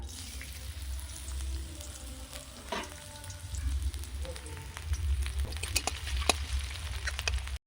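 Steady sizzling of onion frying in a hot pan, a constant crackle with occasional pops and a faint clink or two.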